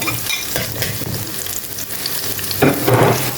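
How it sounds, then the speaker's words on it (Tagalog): Garlic and onion sauté in a hot pan, a loud, dense sizzle with scraping stir strokes close up, swelling into a stronger crackling burst near the end. "bawang at sibuyas so ayan igisa lang natin ating bawang"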